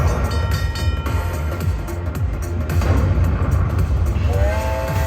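Train effect from a Huff N Even More Puff slot machine, a rumbling clickety-clack with whistle-like tones and electronic chimes from the casino game, loud and steady for several seconds.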